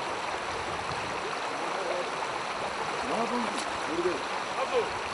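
The Kazretula river in Bolnisi flows past in a steady, even rush of moving water, close and continuous, with faint intermittent sounds over it.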